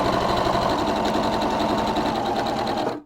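Sewing machine running steadily and loud for about three seconds while chain piecing quilt pieces sewn right sides together with a quarter-inch seam, a dense continuous whir that stops abruptly at the end.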